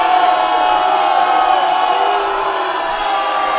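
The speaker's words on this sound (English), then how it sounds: "the crowd doesn't like it" Arena crowd at a Saint Peter's versus Rider men's college basketball game reacts to a foul call, a steady loud wash of voices with shouts and boos sustained throughout.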